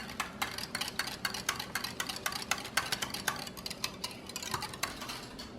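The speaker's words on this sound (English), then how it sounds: "Mix this together until it's smooth." Buttermilk pancake batter being mixed with a utensil in a bowl: fast, quiet, repeated clicking and tapping strokes in a steady stirring rhythm, close by, with no talking.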